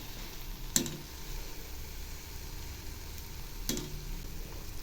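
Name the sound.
milk buns frying in oil, being turned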